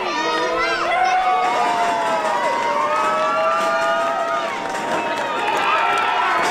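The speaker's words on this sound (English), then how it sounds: "And they are getting this crowd wound up" Crowd cheering and shouting in a wrestling video game arena, a loud continuous roar with rising and falling whoops and whistles, sustained throughout with commentators' voices faintly blended in.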